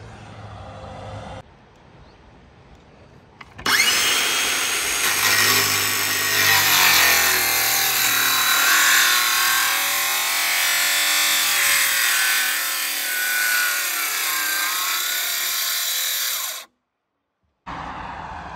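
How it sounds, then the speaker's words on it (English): A Sawzall reciprocating saw cuts out an old vinyl window frame, a loud continuous buzzing rasp lasting about thirteen seconds after quieter handling noises, with the blade's pitch wavering as it bogs in the gummy material before stopping abruptly. "I'm just gonna get a sawzall. I'm just gonna cut this thing out."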